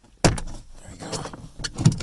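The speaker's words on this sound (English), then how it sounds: "you basically find a prying spot under this door and then pull it towards you" A 2013 Mazda 3 door panel is pried loose and pulled off, giving a sharp plastic clip pop followed by scraping and a second snap, close up.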